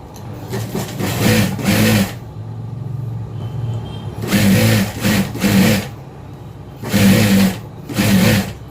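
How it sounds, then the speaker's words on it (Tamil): Sewing machine stitching a plain blouse, running in three loud bursts of rapid mechanical whirring separated by quieter idle pauses, close up with no talking. "ஒரு தையல் மேலே ஒரு தையல் போடுங்க."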